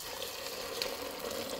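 Boiling water is poured into a container for a mycology popcorn tek, a steady close splashing gush that holds even and unbroken from start to finish.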